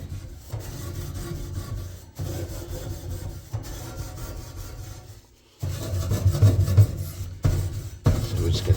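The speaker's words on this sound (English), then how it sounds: "And here now I can use this steel wool. I'm gonna add some Dawn to it and then scrub it down like that." Steel wool and Dawn dish soap scrubbed over a dirty oven surface, making a steady gritty rubbing in back-and-forth strokes, close by, with short pauses and a louder, rougher stretch near the end.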